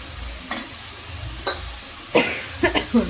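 Tomatoes, soya chunks and potatoes sautéing in a pan under a steady low sizzle, with a few clattering stirs and scrapes of a utensil growing busier toward the end.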